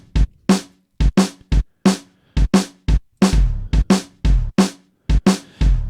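A programmed drum and bass beat plays loud and close, with punchy bass drum hits and crisp snare and hat strikes in a fast, driving syncopated pattern, with no voices.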